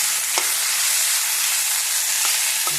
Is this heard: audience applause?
no